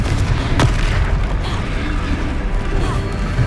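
The Confringo explosion spell in the video game Hogwarts Legacy, heard as a loud boom inside a dense, continuous wash of game noise and low rumble.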